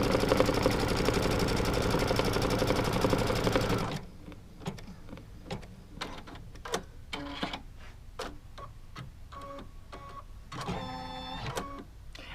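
A sewing machine quilting a quilt block hums continuously for about four seconds. It then stops, leaving scattered small ticks and clicks.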